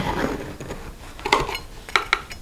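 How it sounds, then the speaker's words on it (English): A knife clinks and scrapes against a pan while cutting faux cornbread into squares, giving scattered close metallic taps that grow sharper and more frequent toward the end. "I like to cut it into little squares"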